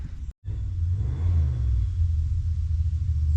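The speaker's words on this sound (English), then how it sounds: "I can hear a 383 stroker through the woods" A 383 stroker V8 engine rumbles low and steady, far off through the woods, with a continuous deep drone and no voices.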